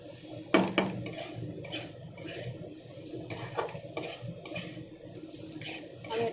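Pasta masala mixture stirred in a bowl, spoon scraping and clinking against the sides in a steady run of small knocks, close and fairly loud, with a louder clatter near the start.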